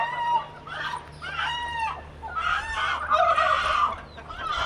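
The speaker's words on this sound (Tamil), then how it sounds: "வான்கோழிலாம் வந்து வித்தியாசமாக கத்துது" Several turkeys call out nearby in loud, wavering gobbling and squawking bursts, overlapping one another, with a faint steady hum behind.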